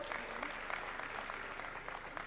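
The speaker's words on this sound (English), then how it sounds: "Give her a round of applause." An audience at a Kenyan national conversation event claps in a steady, dense round of applause, heard faint and at a distance.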